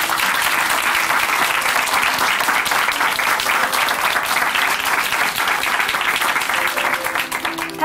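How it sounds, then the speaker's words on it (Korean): A church congregation at Chuncheon Hanmaum Church applauds loudly and steadily for nearly eight seconds, a dense wash of many hands clapping together at close range. "우리 정경화 자매님께 응원의 박수 보내드릴게요"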